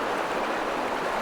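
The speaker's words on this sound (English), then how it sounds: "There you can see the creek there." A creek flows over rocks in a steady, close broadband rush of running water with no pauses.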